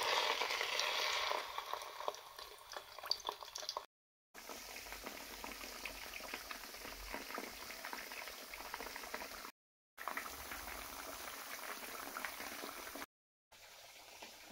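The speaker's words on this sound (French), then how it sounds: "pendant que mon poisson est en train de frire" Marinated fish coated in a garlic and ginger paste sizzles steadily in hot oil, a continuous crackling bubble broken by a few short gaps, with no voices.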